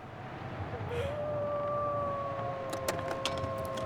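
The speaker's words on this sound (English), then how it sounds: "Sounds like we got a wolf outside." A lone wolf howls outside in the video game The Long Dark, a long, rising then sustained mournful tone at moderate distance over a steady windy hiss, with a few faint clicks near the end.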